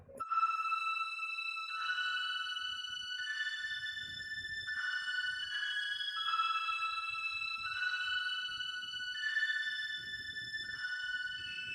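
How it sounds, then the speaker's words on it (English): A soft synth pad plays a slow melody of sustained tonal notes, each held for a couple of seconds, clean and alone. "Next up in the melody, we have this little pad right here highlighting some of the top notes."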